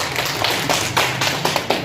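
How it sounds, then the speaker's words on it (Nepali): Scattered hand clapping from an audience at a Bahing orthography and writing program, a few irregular claps and taps rather than a full ovation, with faint background murmur. "ल ताली उहाँहरूलाई।"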